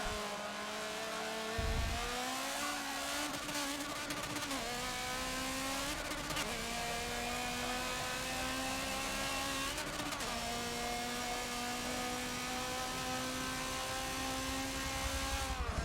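Nissan GT-R race car engine in Forza Motorsport 7, loud and close, revving steadily through gear changes with brief dips and climbs across a racing lap.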